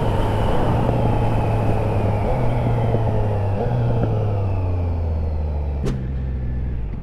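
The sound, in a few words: Triumph Trident motorcycle decelerating with Lynx Spark exhaust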